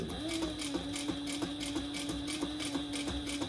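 A sewing machine stitching a second row of topstitching on a handmade bag, a fast, steady mechanical whirr with regular rhythmic ticks, heard close and fairly quiet with no talking.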